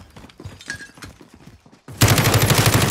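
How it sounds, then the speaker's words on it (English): Gunfire in the Call of Duty: Warzone video game, a loud sustained rapid automatic burst that suddenly cuts in and continues steadily to the end, preceded by a stretch of quieter background game noise. "Oh, he's shooting."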